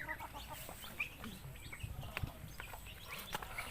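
Chickens cluck and chatter nearby amid a busy farmyard murmur with scattered thumps.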